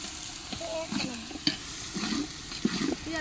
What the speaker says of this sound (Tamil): வெங்காயம் பொன்னிறமா வந்த அப்புறம் இஞ்சி பூண்டு பேஸ்ட்டு சேர்க்கணும்